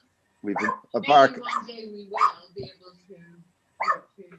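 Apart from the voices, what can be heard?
dog barking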